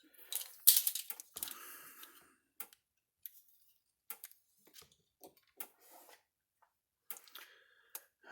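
A Speedrite 12000i electric fence energizer under repair gives off sharp, dry clicks at roughly regular intervals, fairly close and quiet, after some louder handling noise at the start.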